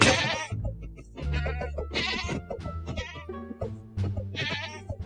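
Repeated sheep bleats from a Minecraft sheep, several loud wavering cries in close succession, each bleat distinct and near, with no talking over them.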